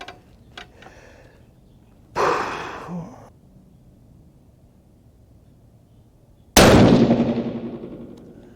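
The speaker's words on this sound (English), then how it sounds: "Last shot of the day." A 6.5 PRC rifle fired with an IMR4831 load during a ladder test: a sharp report rises out of near-silence, followed later by a louder crack whose echo rings and fades over about two seconds.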